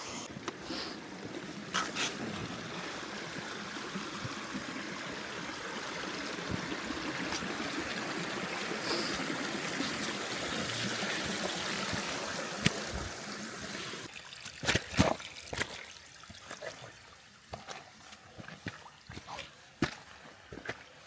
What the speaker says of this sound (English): there's a beautiful waterfall right at the very beginning of it